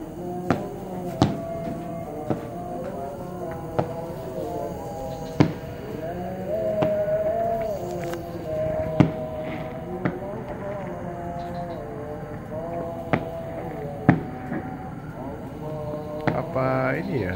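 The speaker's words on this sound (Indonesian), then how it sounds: "kembang api itu panjang juga, nggak stop-stop." Fireworks on Eid eve takbiran night pop and crack in scattered bursts, mostly distant, running on without pause under a steady background drone while people talk nearby.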